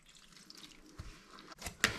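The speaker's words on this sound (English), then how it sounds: "Going to add water slowly." Water poured slowly into spelt sourdough in a bowl, a few faint drips and small splashes that grow into a brief louder trickle near the end, close and quiet with no speech.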